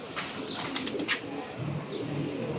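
Giribaz pigeons, including a female, coo nearby in a loft. A soft continuous murmur of coos mixes with light chirps and rustling, close and steady, without any talk.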